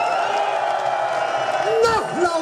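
A large crowd at a Berlin street demonstration against data retention cheers and whoops continuously, with a couple of louder shouts rising near the end.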